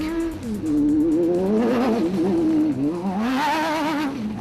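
Off-road race trucks, led by a Ford Ranger, racing and sliding on a loose road; loud engines rev and wail with rising and falling pitch as vehicles pass close by.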